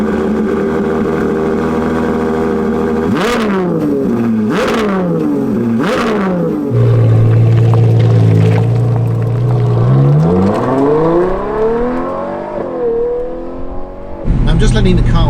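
Ferrari 812 Competizione V12 idling and blipping through a warm-up, with sharp throttle revs rising and falling, a sustained steady hum, then a slow climbing rev near and loud.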